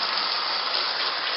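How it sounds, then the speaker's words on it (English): Running tap water gushing steadily as soapy water is rinsed off glass canning jars, loud, close and unbroken for the whole moment. "Just a nice rinse off. Rinse them off. That soapy water off of there."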